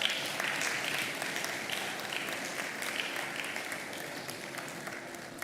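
A conference audience applauds steadily, a dense wash of clapping that holds at moderate volume and slowly fades slightly over several seconds.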